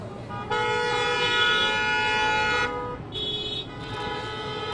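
Several car horns honk in long sustained blasts, one after another, loud and close over a busy street hum at a teachers' rally.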